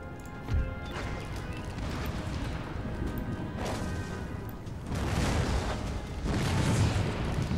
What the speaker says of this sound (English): So let's get them with canister shot